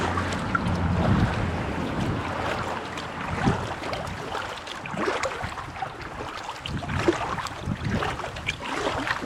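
A canoe is paddled against the wind on a pond in the Adirondacks, with water lapping and sloshing at the hull and gusts buffeting the microphone, steady and close with no talking.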